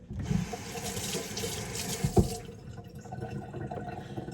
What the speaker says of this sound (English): I'm gonna put this away after I wash my hands.